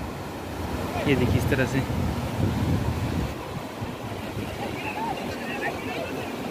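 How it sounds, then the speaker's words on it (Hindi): Waves and surf roll in at Baga Beach, Goa, heard as a continuous broad wash with wind buffeting the microphone, while someone speaks briefly over it. "ये गोवा का बागा बीच है"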